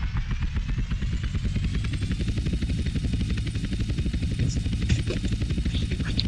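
A helicopter in GTA San Andreas multiplayer beats with a rapid, steady rotor chop and engine drone, loud and close throughout, with a few faint clattering sounds and no clear talk.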